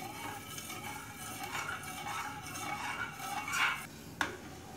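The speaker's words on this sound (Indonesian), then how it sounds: "Kita aduk-aduk seperti ini" A spoon stirs dragon fruit jelly mixture in a pot coming to the boil, giving soft, irregular scraping and clinking strokes at a quiet, close level.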